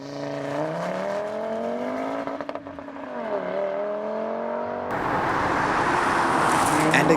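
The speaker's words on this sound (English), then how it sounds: "Now let's see if the BMW M135 can keep up with the ballistic launch control of the Audi RS3." A BMW M135i and an Audi RS3 make a launch-control drag-race start: a steady engine drone shifts pitch under load, then a broad rushing roar of speed and wind takes over near the end, fairly loud with no voices.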